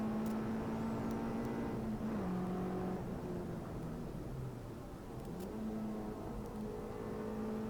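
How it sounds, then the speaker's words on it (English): A Peugeot 106 race car engine howls at high revs on Goodwood Motor Circuit, pitch dipping and climbing as it lifts and gets back on throttle mid-corner, loud and close throughout. "So you can hear right on the throttle there mid-corner before that final apex"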